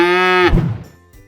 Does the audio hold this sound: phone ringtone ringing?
no